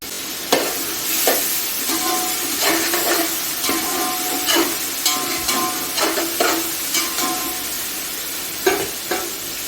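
Ginger and garlic frying in a pot for beef pulao, giving a steady loud sizzle with repeated scraping stirs of a spoon at an irregular rhythm, with no talk over it.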